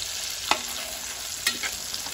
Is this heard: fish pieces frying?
yes